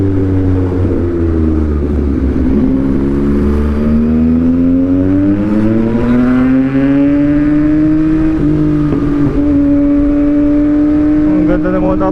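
A vehicle engine revs in a busy traffic area, its steady drone climbing in pitch, holding high, then dropping back and settling at a raised idle, loud and close throughout.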